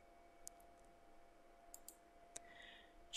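Several sharp, faint computer mouse clicks spaced irregularly over a quiet room hum while working in Fusion 360 CAD software, followed by a louder noise at the very end.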